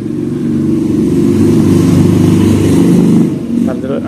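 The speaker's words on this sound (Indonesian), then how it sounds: "ada suara motor lewat" A motorcycle passes nearby with a loud, steady engine drone that swells over several seconds and then fades, partly under a person talking.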